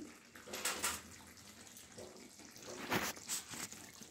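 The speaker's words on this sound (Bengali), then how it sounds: "জাস্ট একটু ছিটিয়ে ছিটিয়ে জল দিয়ে দেবো উপর থেকে" Water sprinkled by hand over curry leaf chicken cooking in a pan: a few short, close splashy bursts of spatter and hiss rise over a steady low sizzle, with no talking.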